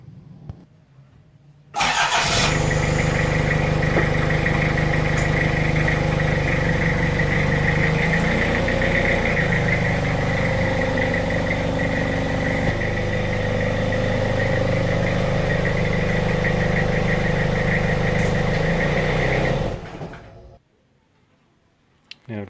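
A turbocharged Toyota Hilux with bad blow-by cranks, catches and then idles steadily and loudly for about eighteen seconds before cutting off, with no talking.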